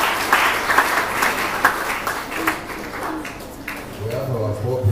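A church audience at a live-streamed giving appeal breaks into loud, rhythmic clapping that gradually thins out before a voice starts speaking over the tail end.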